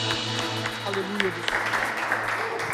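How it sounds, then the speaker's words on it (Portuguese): A church congregation at a worship service clapping together, a dense, steady patter of many hands under a lingering voice and a low hum. "Aleluia, aplauda o Senhor."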